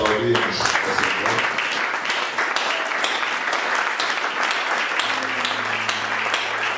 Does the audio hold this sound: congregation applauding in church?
yes